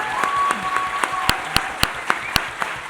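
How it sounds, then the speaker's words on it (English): A panel audience bursts into close, full applause that holds steady for nearly three seconds, with sharp individual claps standing out in a regular rhythm near the end and faint voices mixed in. "I just want to ask for a round of applause for this group before we go"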